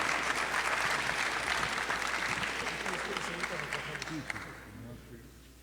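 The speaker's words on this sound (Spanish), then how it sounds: "Muchas gracias y un aplauso para ustedes." Audience applause at a conference fills the room as dense steady clapping, with a few voices talking underneath. It fades gradually toward the end.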